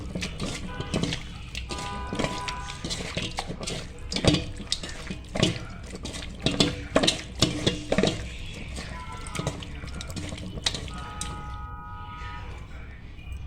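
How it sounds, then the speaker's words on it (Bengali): Loitta fish are mixed with spices by hand, producing close, irregular wet squelches and slaps that rise and fall in bursts. "এখন ভালো করে এগুলোকে আমি মেখে নেব।"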